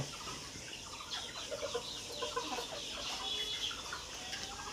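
Hens clucking softly and repeatedly nearby, a loose overlapping chatter of fowl with steady background noise.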